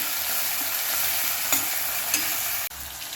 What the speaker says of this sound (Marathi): त्यामध्ये आता आपण टोमॅटो घालून घेणार आहोत छान हलवून घेऊया